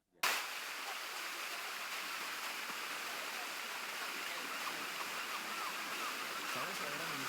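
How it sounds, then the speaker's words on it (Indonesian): Huta Barat waterfall in North Sumatra roars steadily after a sudden start, a constant broad rush of falling water heard close and alone. "takjub melihat keindahan air terjun Huta Barat"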